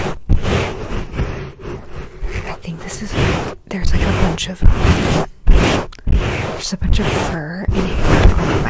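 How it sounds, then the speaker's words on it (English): A shower scrubber scrapes and rubs over a furry microphone cover in loud, aggressive bursts. The close, crackling swishes are broken by short silent gaps. "the shower scrubber is literally like getting it off"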